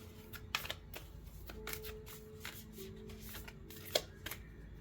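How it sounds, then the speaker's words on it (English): Tarot cards being shuffled by hand, soft repeated riffling and tapping clicks in an uneven rhythm, close and quiet over a low steady background hum. "Keep on shuffling and get some more."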